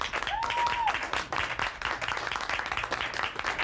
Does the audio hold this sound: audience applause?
yes